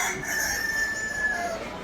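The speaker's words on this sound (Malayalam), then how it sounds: "നമ്മുടെ നാട്ടിലെ നാടൻ കോഴികൾ" A free-range country rooster crows once, a drawn-out cock-a-doodle-doo close by, with no talking around it.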